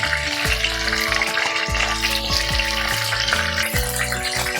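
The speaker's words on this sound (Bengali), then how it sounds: "পটলগুলো আমার ভাজা হয়ে গেছে," Pointed gourd (potol) pieces fry in hot oil, a loud, bubbling sizzle close to the pan, with a repeating tonal hum running beneath it throughout.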